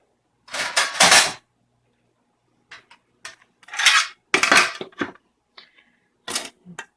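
Plates and cutlery being handled while dinner is set out, a series of close, bright clinks and clatters in short bursts separated by quiet pauses.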